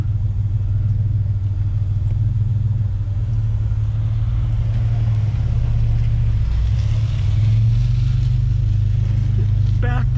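Heavy trucks pulling into a scrapyard on a quiet Monday morning, with a continuous loud low engine rumble throughout and a slight surge near the middle.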